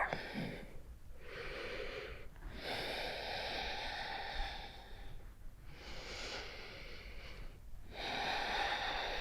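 Slow, deep yoga breaths, each inhale and exhale a soft, airy rush through the nose and mouth, repeating in a calm rhythm of about four cycles, close and quiet with no talk.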